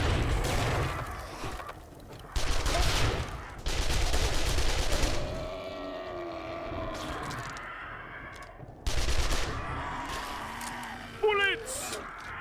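Bursts of gunfire in the survival game 7 Days to Die, several loud volleys separated by quieter stretches, with voices talking and exclaiming between and over the shots.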